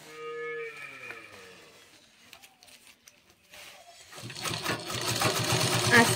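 A sewing machine stitches a bag made from a rice sack. A voice comes first, then the machine starts near the end with a steady, rapid mechanical chatter that grows louder.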